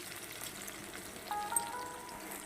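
Onions frying in a pan while cooking pumpkin with raw chickpeas and peanuts, a steady soft sizzle and crackle throughout with a few brief brighter pops, close and fairly quiet with no talking.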